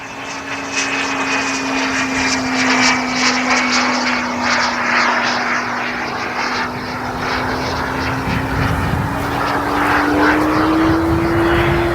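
A Boomerang Lancer RC jet flies a fast knife-edge pass. It gives a steady, loud, high whine with a sustained tone that rises slightly toward the end, heard alone with no voices.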